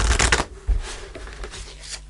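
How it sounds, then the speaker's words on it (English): Angel answer oracle cards are shuffled close up, a quick riffling flutter with a couple of dense bursts and softer rustles over about two seconds. "let's pull an angel answer card"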